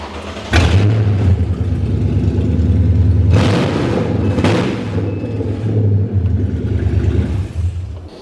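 Toyota 3UR V8 fitted in a GAZelle van, running with no exhaust, roars loud and near, with several sharp throttle blips over a heavy, raw idle.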